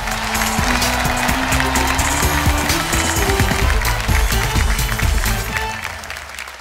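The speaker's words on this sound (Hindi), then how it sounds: "एक बार जोरदार तालियों के साथ," A studio audience on a Hindi night-time family show applauds to welcome a poet, loud close clapping that carries on over a rhythmic music bed, staying strong throughout before easing at the end.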